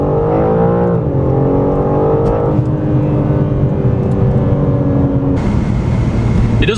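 A 2021 BMW M4 Competition engine revs steadily under load while driving, its loud, sustained drone rising and falling in pitch and staying continuous inside the car.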